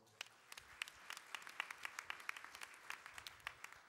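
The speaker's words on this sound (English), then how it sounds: "Give them a round of applause." Faint, distant applause with scattered individual claps, a sparse patter of hands from a crowd heard from afar.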